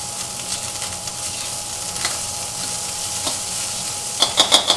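Food sizzles and crackles steadily in a hot pan, with a few scraping stirs and louder bursts of spattering near the end.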